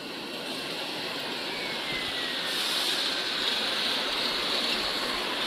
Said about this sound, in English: You can see the water is bubbling.